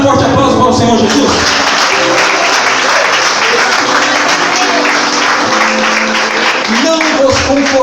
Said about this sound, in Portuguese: Dá um forte aplauso para o Senhor Jesus.